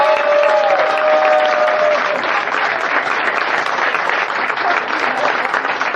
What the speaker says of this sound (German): verabschieden wir den lieben Olli Hoff noch mit einem riesen Applaus